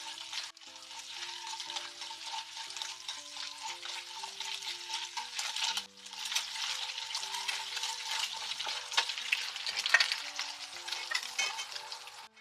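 Boiled eggs fry in a pan for a curry, giving a continuous sizzling hiss with occasional stirring scrapes, set against steady background music.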